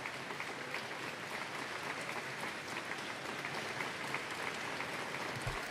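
Steady, even applause from a gathered crowd as Keir Starmer is expected to announce his resignation, heard at moderate distance without interruption.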